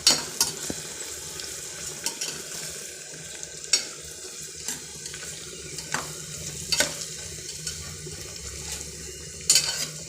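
Onions sauté with ginger garlic paste in a pan, a continuous sizzle punctuated by sharp, irregular clicks and scrapes of a spoon against the metal.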